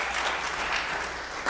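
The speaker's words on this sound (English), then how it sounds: "You can clap to that." A church congregation breaks into steady applause, a dense wash of many hands clapping at moderate level that swells briefly near the end.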